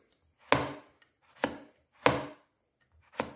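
Knife slicing cucumber thinly on a cutting board: four sharp, separate chops spaced evenly about every 0.8 seconds, close and clear, with near silence between them.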